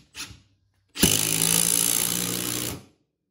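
An impact driver drives a screw in one sustained burst of roughly two seconds, preceded by a brief short blip, loud and close with no talking.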